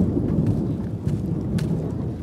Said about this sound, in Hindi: देख लो बादल गरजते हुए यहाँ पे